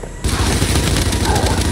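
Rapid, dense bursts of gunfire rattling continuously in Gears 5, loud and close, with a brief quiet moment before the shooting starts.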